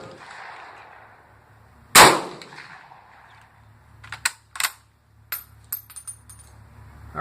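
A single sharp shot from a Mosin Nagant rifle firing an undersized .32 S&W cartridge, a loud close crack followed by several lighter metallic clinks and clatters as the action is worked.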